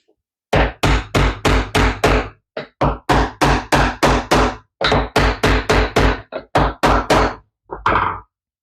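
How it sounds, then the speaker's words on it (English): A wooden block strikes a piece being driven into a small wooden project, giving a string of loud, close knocks in quick irregular bursts with short pauses between groups, no talk over them. "Get a little bit of wood to whack that in with."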